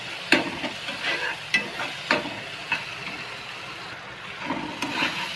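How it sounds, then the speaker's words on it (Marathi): Onion and tomato frying in a pan, stirred with a spoon: a soft, low sizzle under repeated scraping strokes roughly every half second to second, fairly quiet and close. "चांगला भाजून घ्यायचा टोमॅटो एकदम."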